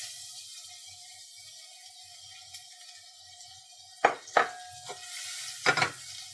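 Beetroot sautéing with asafoetida and turmeric in a pan over medium-low heat, a soft steady sizzle under a faint hum, broken near the end by a few sharp clanks and scrapes of a spoon against the pan.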